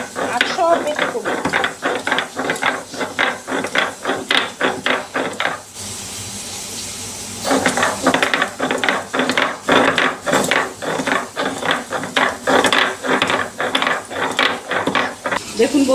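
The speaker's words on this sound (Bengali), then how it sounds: "এলাচি আর একটু দারচিনি। এটা আমি বেটে দেব।" Cardamom pods and cinnamon sticks are ground by hand for a Bengali rohu fish curry, giving dense rapid rattling, clicking strokes in two long bursts with a brief pause between, close and loud.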